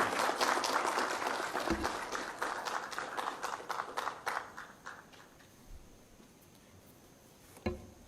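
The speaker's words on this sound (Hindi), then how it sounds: "तालियों की गड़गड़ाहट से उनका पुरजोर आमंत्रण करें" An audience at a CRPF tree-planting day event in Gurugram applauds to welcome the Home Minister, the clapping strong at first and then thinning and fading to a few scattered claps.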